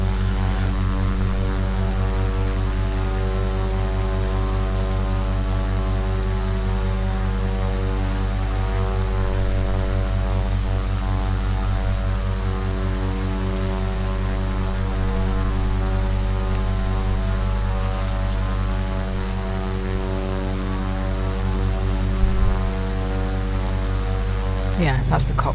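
A Cessna Caravan single-engine propeller plane in Microsoft Flight Simulator, a steady loud droning turboprop hum with a constant low tone held throughout.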